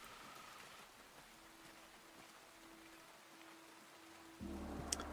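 Steady soft rain falls into a courtyard in a turn-based RPG set in feudal Japan, a continuous low hiss of drops with a faint tonal hum, growing louder near the end.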